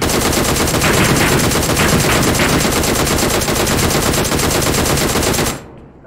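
Sustained automatic gunfire in PUBG Mobile, a loud, dense, continuous burst of rapid shots lasting several seconds before cutting off abruptly.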